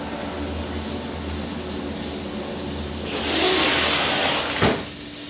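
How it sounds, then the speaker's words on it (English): A low, distant rumble swells into a broad roar partway through, a train passing behind houses at a distance, with a sharp click near the end. "Believe it or not, that's the train."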